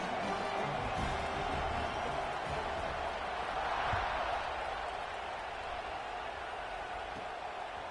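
A large stadium crowd roars and cheers steadily in a college football video game, a dense, sustained wall of noise heard up close with no break.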